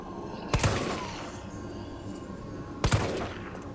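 Two loud bursts of gunfire in the Resident Evil 3 Remake video game, each a sharp crack with a decaying tail, spaced a couple of seconds apart over a low ambient game background.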